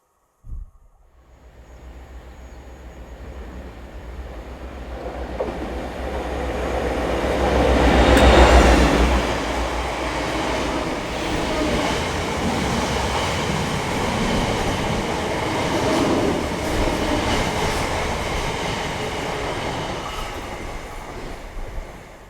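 A Great Western high speed train runs through Hanwell station in West London, a loud rising rumble that peaks with a roar as it passes close by, then holds a steady rail drone and wheel noise.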